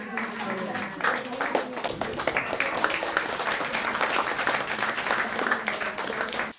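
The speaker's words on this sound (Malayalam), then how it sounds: "നല്ലൊരു കൈയടി കൊടുക്കുക" A crowd at a village panchayat ceremony in Kerala honouring a national junior kabaddi player claps steadily and fairly loudly, a dense patter of hands sustained throughout with some voices mixed in.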